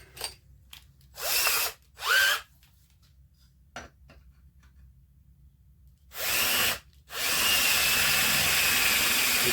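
A power drill fitted with a half-inch bit runs in short bursts, twice briefly and then in a longer sustained run that bores steadily into the workpiece, loud and close with quiet pauses between.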